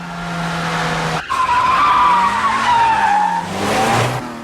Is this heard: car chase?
yes